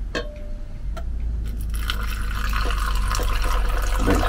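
Water pours into a coffee maker in a camper van, starting with a few clicks and knocks, then a steady loud gushing fill that grows fuller over several seconds.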